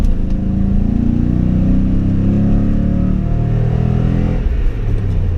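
A Toyota Tundra pickup truck engine revs hard to 5,000 RPM and holds a loud, steady roar, then eases off near the end.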